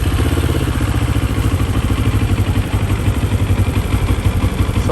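A CFMoto 700CL-X motorcycle engine idling close by after starting, a steady loud rhythmic thrum with a fine mechanical clatter that holds even throughout.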